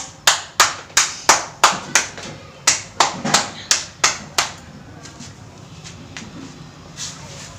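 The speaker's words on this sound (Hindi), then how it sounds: "ताली बजाया जाए" A dozen or so sharp, evenly spaced hand claps ring out close by at a birthday celebration, then stop, leaving quiet room ambience with faint movement.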